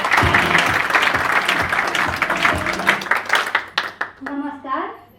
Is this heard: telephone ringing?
no